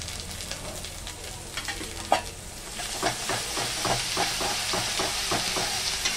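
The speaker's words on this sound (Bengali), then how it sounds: "এটা এবার ভেজে নেব 2 মিনিট, পেঁয়াজ কাঁচা লঙ্কাটা। আদা আর একটু রসুন বাটা দিলাম।" Onion, green chili, ginger and garlic paste fry in oil with a steady sizzling hiss, while a spatula stirs in quick, rhythmic scraping strokes that grow more regular in the second half, close and clear.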